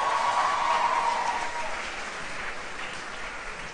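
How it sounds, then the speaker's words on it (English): Audience applause at a school Teachers' Day morning assembly, a steady wash of many clapping hands that starts loud and eases to a lower level partway through, with no talking over it. "Can we give them another round of applause?"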